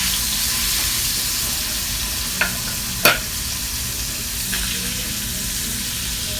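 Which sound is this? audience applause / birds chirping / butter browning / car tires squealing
butter browning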